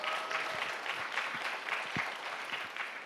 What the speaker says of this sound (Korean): 우리 박수 소리 이거밖에 안 되면